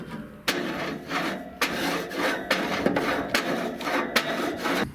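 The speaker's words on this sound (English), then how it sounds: "Just cut a 60-degree angle on a hard piece of wood, and you have a barbecue grill scraper" A homemade hard-wood scraper cut at a 60-degree angle being pushed across a barbecue grill, giving repeated rough rasping strokes with sharp scrape onsets at a steady rhythm, close and loud.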